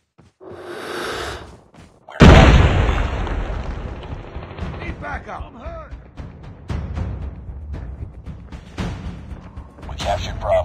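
A frag grenade goes off with a sudden loud blast in a Call of Duty Mobile match, following a short burst of gunfire and then giving way to continued shots, footsteps and voice callouts in the game.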